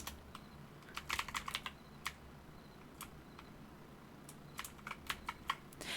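Quiet computer keyboard typing during a game session comes in short irregular bursts of clicky keystrokes with pauses between them, close but faint over a low background hum.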